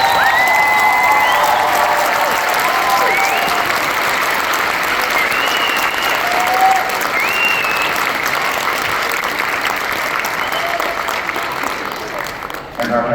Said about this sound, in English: Let's give middle school another round of applause.